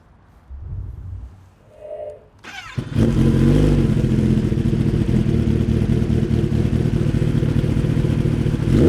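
A 2022 Kawasaki Ninja ZX-10R sportbike engine starts after a few quiet clicks and rumbles, then roars at a loud, steady, close-up high rev that holds to the end.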